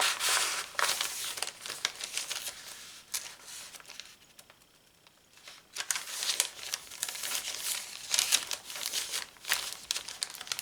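Paper bag pages of a handmade journal being handled and flipped, close crinkling and rustling bursts that pause briefly midway before resuming, soft and intermittent.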